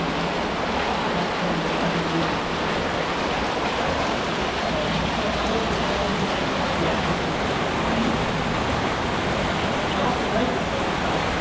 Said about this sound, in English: we've got some surface water coming in just ahead